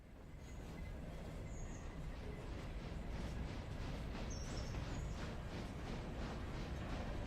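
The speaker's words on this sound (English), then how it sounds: "which is why I'm bringing the Alarka train back in here. We should see it appear in a moment." A train rolls in within a railway simulation game, the Alarka train, giving a steady rumbling roar with faint squeals of wheels, constant and moderately distant.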